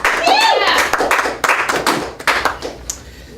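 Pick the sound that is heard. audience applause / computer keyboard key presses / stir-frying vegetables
audience applause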